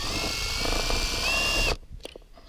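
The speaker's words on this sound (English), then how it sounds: "just drill it out." A power drill bores out a small hole in a weather station mount, a steady high whine running close and loud for nearly two seconds before cutting off to quiet handling noise.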